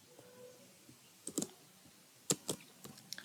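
A few light clicks and taps on a computer keyboard while entering an Excel chart title, with sparse keystrokes clustered in short bursts against quiet room tone.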